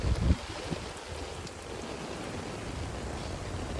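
Rain falls on a Camaro convertible in a steady, even hiss with a soft thump at the start, and there is no talk.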